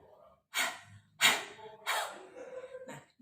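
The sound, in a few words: huff cough with open mouth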